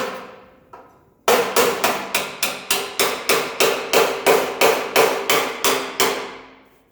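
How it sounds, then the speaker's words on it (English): A hammer strikes a screwdriver wedged between spot-welded metal pieces, about eighteen sharp, loud, evenly spaced metallic blows in a fast steady rhythm after a couple of lighter taps. "I'm going to take my screwdriver, put it in this one."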